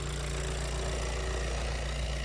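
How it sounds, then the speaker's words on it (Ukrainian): A 2020 Volkswagen Passat B8 110 kW engine idling, a steady, low hum with a faint mechanical vibration, constant and close, with no change in pace throughout. "Двигун працює ідеально."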